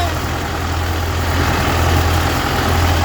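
A tractor engine runs steadily with a mower attached while cutting pasture, a loud, continuous low rumble with no breaks.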